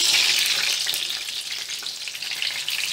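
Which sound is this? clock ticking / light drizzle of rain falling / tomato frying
tomato frying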